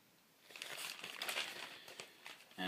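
A black plastic bag, the sleeve for a vinyl record, crinkles and rustles steadily as it is handled close up, with a sharper crackle at the very end and no talking.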